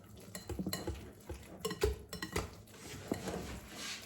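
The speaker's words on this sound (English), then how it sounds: "Come on, whisk." Batter of cottage cheese and sour cream whisked in a bowl, giving quick irregular clinks and scraping strokes of the whisk against the bowl, close and moderately loud.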